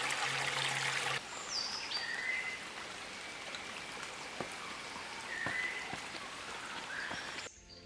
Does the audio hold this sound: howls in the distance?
no